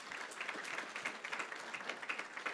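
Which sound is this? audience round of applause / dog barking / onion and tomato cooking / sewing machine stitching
audience round of applause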